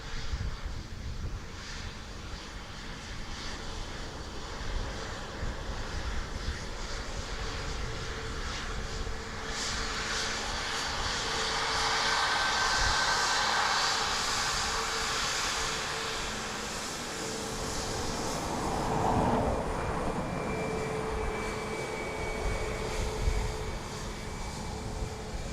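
An aircraft engine roars at Dublin Airport, a broad, steady rumble mixed with wind noise that swells gently in the middle and again later, heard from some distance with no voices.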